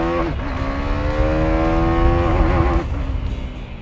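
A 2017 KTM Duke 390 single-cylinder motorcycle engine revs smoothly and steadily, its pitch rising slightly and then dropping away, close and loud with no talk.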